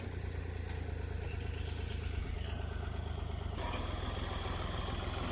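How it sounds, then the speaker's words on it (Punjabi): A 1988 Fiat 480 tractor engine runs at a steady idle, a low, even diesel chug with a mechanical clatter. It stays close and constant throughout, with no voices. "88 ਮਾਡਲ ਟਰੈਕਟਰ ਦੀ ਪਰਫਾਰਮੈਂਸ ਦੇਖੋ ਮਾਸ਼ਾਅੱਲਾ"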